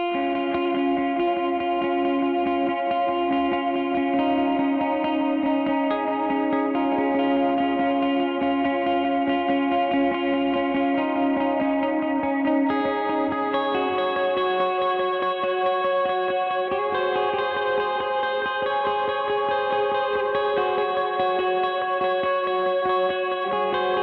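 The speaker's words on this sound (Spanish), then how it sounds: "estoy tocando una línea muy sencilla y estoy usando menos reverb, pero todos los otros pedales se quedan igual." An electric guitar plays a simple sustained line through a chain of effects pedals, with reverb turned down, for a worship song. The chords are layered, distorted and chorused, and the tone rings steadily and continuously with no voice over it.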